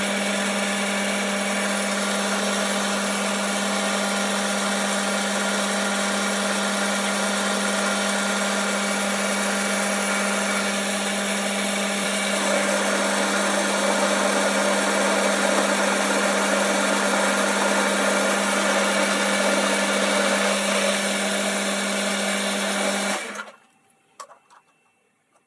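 A workshop lathe turns a metal part down to 12mm with a steady, loud motor hum and a constant whine. The cutting roughens the sound slightly midway, then the machine winds down and stops near the end.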